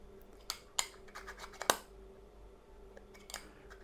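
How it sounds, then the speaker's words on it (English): A magnetic 10-stop ND filter snaps onto a magnetic adapter ring with a few sharp, close clicks in quick succession, the loudest near the middle, over a faint room hum. "if I want to use the, let's say, the 10-stop ND filter, it just goes on with a magnetic click"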